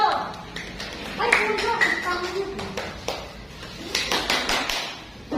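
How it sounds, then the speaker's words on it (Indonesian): Pupils in a fourth-grade classroom clap for a classmate, a brief scattered round of hand claps mixed with children's voices talking over it. "Tepuk tangan buat Ciko"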